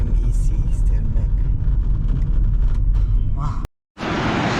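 A car drives along a road through the snowy mountains of Slovenia, its steady engine and tyre rumble loud and close throughout, cutting out briefly to near silence before resuming.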